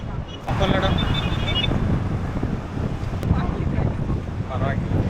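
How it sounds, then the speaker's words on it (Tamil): Heavy wind buffets the microphone in low, rumbling gusts throughout while a person keeps talking underneath. "காற்று வர ரொம்ப அடிக்குது, நான் பேசுகிறது கேட்குமான்னு தெரில."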